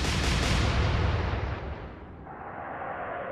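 Royal Navy warship guns firing at a destroyer in the Atlantic Fleet game: a loud, deep rumbling salvo that holds for over a second, then drops to a fainter lingering hiss.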